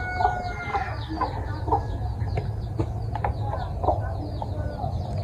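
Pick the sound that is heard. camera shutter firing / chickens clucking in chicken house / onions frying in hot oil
chickens clucking in chicken house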